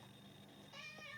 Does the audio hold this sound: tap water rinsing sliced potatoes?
no